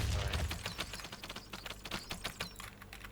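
Gunfire in the shooter video game Warz: rapid bursts of crackling shots in quick succession, a dense rattling stream of fairly quiet pops with a short heavier thump at the start.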